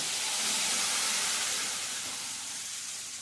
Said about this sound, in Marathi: आता मी ह्यात हे उकळतं पाणी घालते.